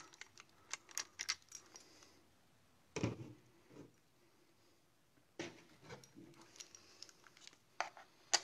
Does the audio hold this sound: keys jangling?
yes